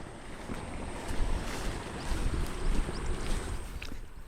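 Steady, rushing rainwater runoff flows loudly with a broad roar, wind buffeting in the background, continuous throughout with no talking.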